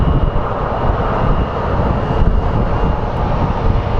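A jet airliner roars on its takeoff roll and climbs away at Phoenix Sky Harbor International Airport, a loud, steady broadband engine rumble filling the whole stretch without a break.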